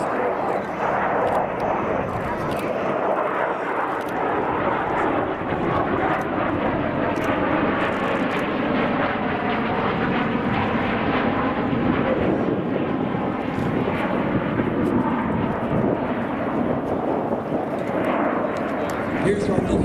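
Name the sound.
U-2 reconnaissance aircraft flying at airshow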